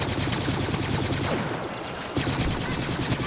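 Dense automatic gunfire rattles nonstop in Star Wars Battlefront, with rapid overlapping bursts and a brief dip in the middle before the shooting resumes at full intensity.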